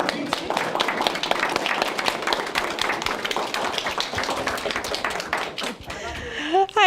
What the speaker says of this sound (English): round of applause for Jenny for providing all the tasty treats